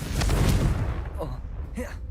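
A Confringo blasting spell fires in Hogwarts Legacy: a loud, rough burst of blast noise at the start that quickly fades into softer magical shimmers and tonal flickers.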